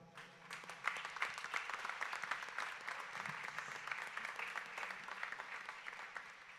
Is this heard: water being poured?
no